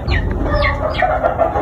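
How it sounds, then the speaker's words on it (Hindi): A hen let out into a yard clucks and squawks loudly at close range in a quick run of sharp calls, with no talking. "सबसे पहले ये गाइस मुर्गी को हमने यहाँ छोड़ दिया"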